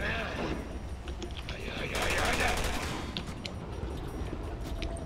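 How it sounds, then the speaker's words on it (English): Rapid gunfire aimed at the player in Resident Evil 6 during Chris's campaign, a dense continuous rattle of automatic shots mixed with game sounds, with a player's voice talking over it. "What's shooting at us?"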